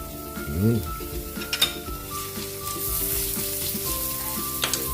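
Garlic and onion sizzle steadily in a little cooking oil in a pan, with a few soft stirring clinks, under background music.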